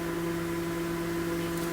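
A Thermomix runs at varoma temperature while cooking sausages, a steady close motor hum with a constant tonal whine over a bed of even noise, unchanging throughout and with no talking.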